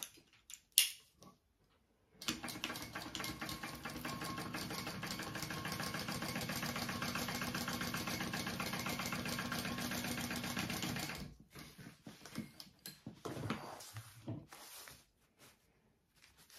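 A sewing machine runs steadily for about nine seconds, stitching lined fabric pieces for a handbag, with a fast even mechanical hum and ticking, preceded and followed by brief handling clatter of the fabric.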